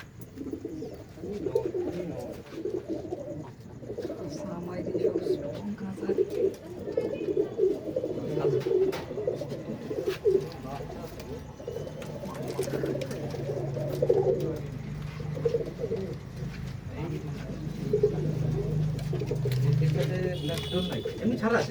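Pakistani pigeons coo in soft, repeated throaty rolls close by, with people talking over and between the calls throughout.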